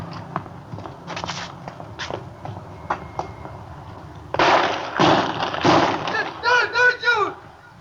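Gunshot sound effects in an old radio detective drama: a series of sharp, loud bangs in quick succession over a low background, with shouted voices at the end.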